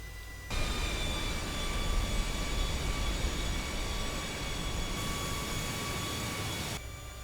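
An AV-8B Harrier II jet taxiing on a carrier deck in the MSFS 2020 flight simulator, giving a steady, loud engine roar with high whining tones that starts abruptly and holds evenly throughout, no talk.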